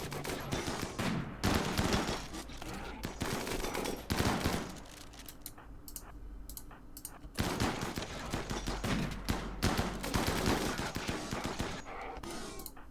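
Battle in the video game RimWorld with gunfire and beam weapons: dense, rapid bursts of shots that crackle almost nonstop, a brief thinner lull in the middle, then heavy fire resumes.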